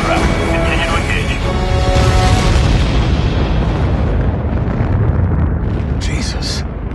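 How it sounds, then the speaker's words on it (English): Explosions in an Ace Combat Assault Horizon trailer rumble through a loud, dense wall of booming blasts and roaring noise, with voices speaking over the din. "Another of those explosions"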